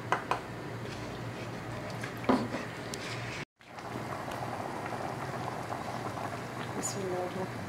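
A pot of dried plum sauce made from aloo bukhara, with sugar, salt and red chilli added, simmers with quiet bubbling and popping. The sound is faint and continuous, with a brief cut partway through.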